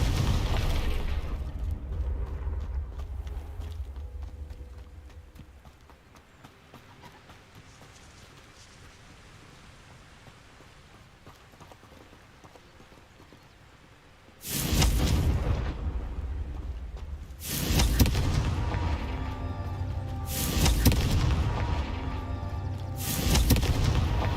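Confringo fire spell blasts in the game Hogwarts Legacy: a low rumbling ambience gives way to a run of loud, booming explosions in quick succession, each with a crackling roar.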